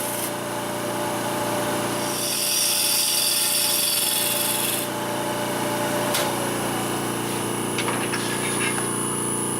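Wood lathe spinning a disk vase blank while a gouge takes a pull cut, a steady high whine and hum with a brighter scraping stretch in the middle, close and continuous with no talk.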